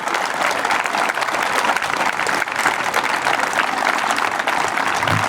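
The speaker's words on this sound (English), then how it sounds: "Fucking clap. Like, it's not hard to clap." A comedy-show audience claps in a dense, steady burst of applause that fills the room for several seconds, fairly close and loud, with a murmur of crowd underneath.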